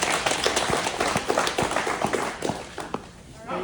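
An audience claps together during a workplace team meeting, a dense, steady patter of many hands close by, with voices murmuring underneath.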